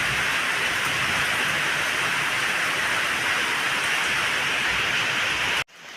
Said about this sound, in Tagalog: Kalahating oras na pala agad na naulan.